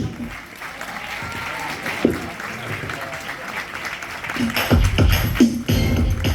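Theatre audience applauding at a curtain call for a Demirci youth centre university drama group's play, a steady wash of clapping with a few louder claps standing out near the end, and a voice announcing names over it.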